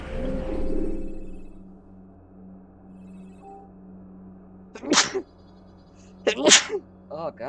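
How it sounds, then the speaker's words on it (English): A person sneezes twice in quick succession near the end, sharp loud bursts after a quiet stretch with a low steady hum and a brief murmur at the start. "I've been sneezing a bit the past little bit."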